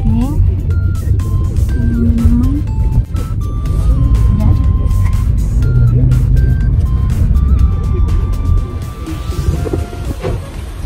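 Cars move around a parking lot in Japan, a steady, loud rumble of traffic and engine noise close by, with people talking over it throughout.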